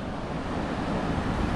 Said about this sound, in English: Oh, there's the waves.